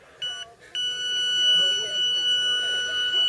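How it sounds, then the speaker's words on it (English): A fishing bite alarm app sounds from a phone inside a bivvy as a steady, shrill electronic tone that starts briefly, cuts out, then holds continuously and loud, with faint rustling beneath. "Very funny. Bite alarm app."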